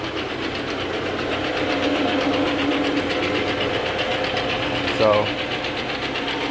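A counter-rotating brush carpet cleaning machine runs with a steady, dense mechanical drone and whir, worked sideways across a carpet seam while someone talks over it nearby.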